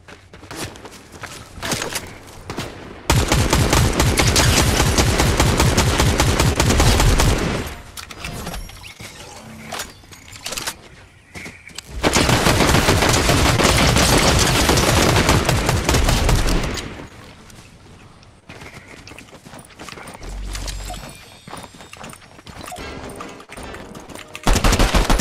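Rapid automatic gunfire in the Fortnite video game during a Zero Build squads match, loud sustained bursts lasting several seconds each, separated by shorter single shots and scattered in-game sounds.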